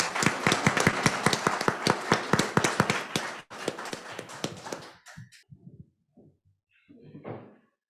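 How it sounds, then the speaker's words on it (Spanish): Applause at a conference about Ricardo Flores Magón begins as crisp, close individual handclaps in a quick regular rhythm, then thins into scattered claps and trails off into near silence with a faint murmur at the end. "Sin más, démosles un aplauso a"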